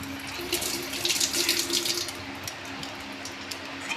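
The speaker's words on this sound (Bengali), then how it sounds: "গ্যাসটা আমি বন্ধ করে দেবো হাতটা ধুয়ে নেবো" Tap water runs steadily into a kitchen sink as hands are rinsed after cooking egg bread toast, a continuous close splashing hiss with small fluctuations throughout.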